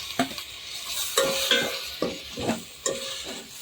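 Tomatoes are stirred and sautéed with turkey berries and onion in a pan, a soft sizzle under a steady rhythm of scraping spoon strokes, about one every half second.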